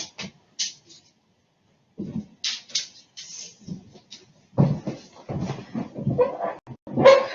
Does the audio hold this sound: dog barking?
yes